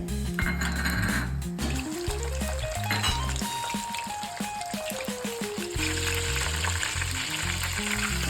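Papdi beans deep-frying in oil for undhiyu, a bright bubbling sizzle mixed with clinks of a metal spoon on the vessel and a rising ringing tone, steady and close throughout.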